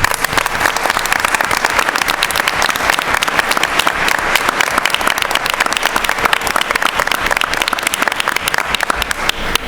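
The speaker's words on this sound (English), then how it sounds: "let's give them a big round of applause" School board meeting audience giving teachers of the year a big round of applause, loud continuous crowd clapping with a brisk even texture throughout, no voices over it.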